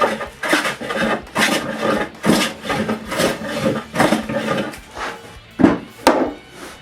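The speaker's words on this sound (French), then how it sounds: "Comme la planche de noyer trop large pour ma dégousseuse, je la rabote droite." A hand plane is pushed along a wide walnut board to true it straight: a steady series of rasping, swishing wood strokes, about one every second, close and fairly loud with no talk.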